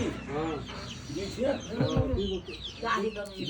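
Chickens clucking and squawking nearby, a busy run of calls over a steady outdoor background, with a voice mixed in.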